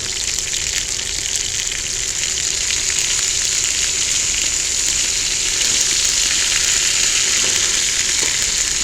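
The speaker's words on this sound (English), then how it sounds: "Flip that hamburger over, or that hamburger steak." Hamburger steak sizzles steadily on a cast iron griddle, a loud, continuous frying hiss that holds even throughout with no talk over it.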